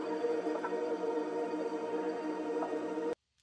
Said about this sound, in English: I'll start off with these two atmospheres from the Inverse Audio pack.